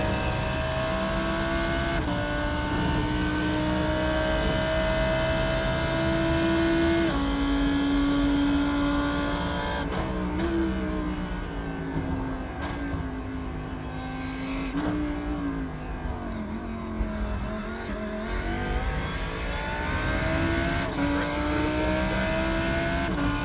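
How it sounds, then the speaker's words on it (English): A Lamborghini Huracan laps Le Mans in the iRacing simulator, its engine heard on board and droning loudly throughout, rising through the gears with sharp upshifts and falling under braking, with brief tyre squeal and some talk mixed in. "Fantastic lap around Le Mans there on board with Adam Burhop and the Lamborghini Huracan"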